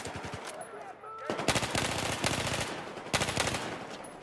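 Rapid M16 automatic rifle fire in a Battlefield 4 team deathmatch on the Metro map, with a brief opening burst followed by two long, loud sustained volleys of close, sharp shots.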